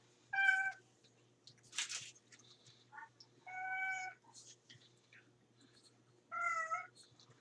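A cat meows three clear, drawn-out times, fairly close, in a quiet indoor setting during a fast-food meal, with short rustles and faint mouth sounds between the calls.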